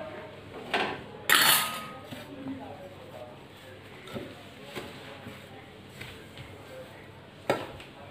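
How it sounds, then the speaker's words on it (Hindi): Almonds, cashews, sesame seeds and sugar lumps stirred together in a bowl for tilkut: faint scraping and light clinks, with a sharper clatter early on, under a voice talking. "अब हम इसको भी मिक्स कर देंगे।"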